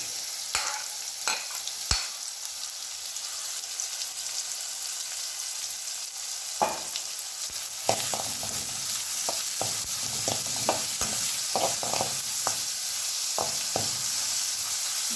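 Chopped garlic and green chili frying and being stirred in a pan for pepper chicken, a steady close sizzle broken by sharp scraping clicks of a spatula, busier in the second half.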